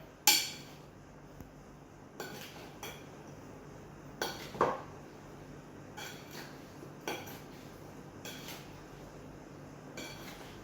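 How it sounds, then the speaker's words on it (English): Mango pickle being stirred with gingelly oil in a bowl, a spoon clinking against the dish in a few scattered, fairly close knocks and scrapes with quiet gaps between them. "And one more time we're going to mix the pickle together."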